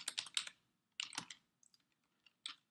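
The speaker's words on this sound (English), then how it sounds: "You'll also notice as I'm typing, I get an autocomplete prompt" Typing on a computer keyboard while entering a MySQL query, a close burst of rapid key clicks, a pause, a second quick flurry, then a few scattered single taps.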